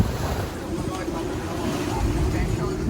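A sailboat with a reefed genoa and main pushing through choppy, windy water in the Whitsundays, giving a constant loud rush of wind buffeting the microphone and waves churning against the hull, with a voice faintly under the noise.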